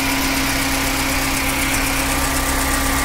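Both radiator cooling fans whir steadily beside the idling engine of a Maruti Suzuki SX4 petrol car that has an overheating and coolant-leak problem, a loud continuous drone with a fixed tonal hum and no talking.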